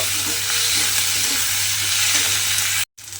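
Chopped medium tomatoes sizzle and hiss loudly in a pan while a utensil scrapes and stirs through them. The frying noise runs continuously until it cuts off abruptly near the end.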